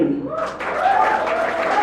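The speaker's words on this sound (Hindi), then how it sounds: "तालियां तालियां जोरदार तालियां" A voice calls out briefly, then a crowd breaks into loud, sustained applause for prize winners at a valedictory prize ceremony, while voices carry on over the clapping.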